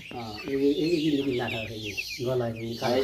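Brahma chickens cluck and squawk close by in short rising bursts on a poultry farm, with voices talking over them.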